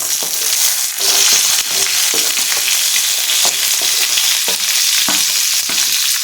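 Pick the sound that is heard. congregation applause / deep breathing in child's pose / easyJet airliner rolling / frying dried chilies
frying dried chilies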